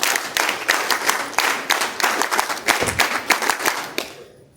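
NCC cadets clap together at the Special National Integration Camp, a dense, loud, steady burst of applause that carries on without a break and then stops abruptly near the end.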